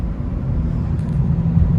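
An 8th-generation Honda Civic Si with a stage 2 clutch is driven along, giving a low, steady engine and road rumble heard from inside the car, brief and continuous.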